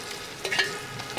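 Prawns fry in coconut oil that is hot but not smoking, giving a short, close sizzle with light stirring clicks.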